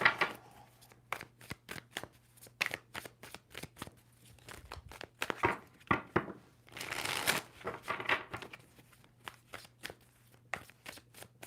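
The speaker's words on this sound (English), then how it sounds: "Two more shuffles for Virgo." Tarot cards being shuffled in a rapid riffling flurry, crisp bursts of flicking and riffling repeating close by with short pauses between.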